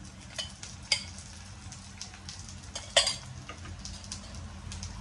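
A cabbage roti fries in oil on a pan with a steady, close sizzle, broken by a few sharp clinks and scrapes of a utensil against the pan.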